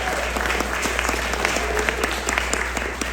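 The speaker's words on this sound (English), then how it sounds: "Let's give her a round of applause" A screening-room audience at a pre-film talk gives a steady round of applause, dense clapping with distinct individual claps standing out over a low constant hum.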